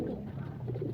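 A racing pigeon coos steadily at close range, a low soft burbling with no pause and no voices over it.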